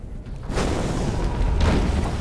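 A siege weapon blowing apart in Diablo 3, heard as two heavy booming blasts about a second apart over a continuous rumbling battle backdrop, loud and close.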